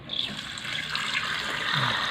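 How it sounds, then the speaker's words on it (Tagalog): Water pours steadily into a cooking pot being filled for a paragis herbal preparation, a continuous splashing rush that slowly deepens in tone as it fills. "ngayon po lalagyan po natin ng tubig"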